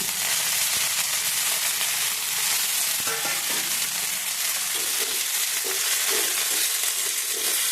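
Gram leaf greens hit a pan of hot oil with garlic and crushed green chillies, giving a steady, loud, dense sizzle throughout with soft stirring scrapes.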